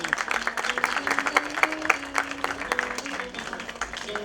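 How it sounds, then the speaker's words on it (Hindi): Continuous clapping from an audience at a duet singing competition, dense and steady throughout, with a voice sustaining tones underneath. "आपकी तालियों में जोश कम रह गया"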